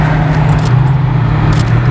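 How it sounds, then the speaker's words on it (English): A car exhaust at a night car meet in Japan gives a loud, steady, close-up rumble that holds without a break. "Look at the exhaust!"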